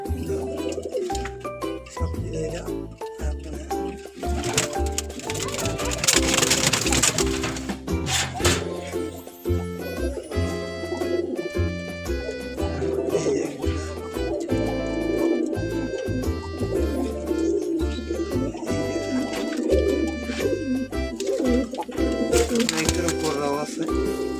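Pigeons coo inside a pigeon loft, soft and repeated, while people talk over them through much of the stretch.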